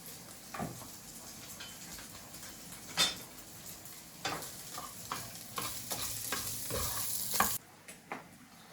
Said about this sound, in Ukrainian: І так пересмажуємо всі наші млинці.